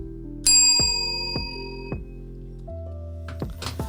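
A metal desk bell struck several times on a studio desk, each clear bright ding ringing out with a long sustained tone, spaced about half a second apart, followed by some clattering handling noises.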